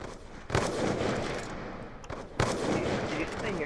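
Sharp sniper rifle shots in Call of Duty Black Ops 2, two loud cracks with one early and one later, standing out over a steady layer of game noise and background chatter.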